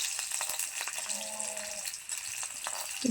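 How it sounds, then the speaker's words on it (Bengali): Crushed garlic and green chili frying in oil in a pan, giving a steady soft sizzle with faint crackle throughout, no one talking. "রসুন থেতো করা আর কাঁচা লঙ্কাটা একটু ভালো করে ভেজে নেবো তেলের মধ্যে।"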